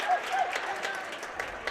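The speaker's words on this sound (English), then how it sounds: "They were clapping. They're all excited." Family members in a school gym crowd clap during a high school volleyball quarterfinal, a steady patter of hands with crowd murmur and talk mixed in.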